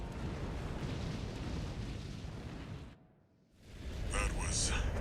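A loud, roaring blast in Armored Core 6 fills the scene, drops briefly into near silence, then swells back into a heavy rumbling aftermath with faint higher tones.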